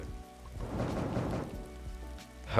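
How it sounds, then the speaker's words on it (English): Steady rain pours in a Roblox game world, a dense, constant hiss drumming on surfaces with faint low rumbles underneath, and no voices over it. "I'm gonna turn the game sound down a bit because the rain is making me slur my speech"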